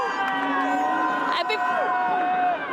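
Crowd of Raptors fans in the Toronto streets celebrating the team's first NBA Championship, a continuous roar of cheering and shouting with horns or whistles sounding over it and voices talking nearby.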